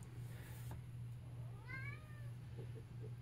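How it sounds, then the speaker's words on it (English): A pet cat meows in a rising, drawn-out cry near the middle, then gives a few short fainter calls, over a steady low hum in an otherwise quiet room. "And so Ty, my cat is upset because I'm not petting him"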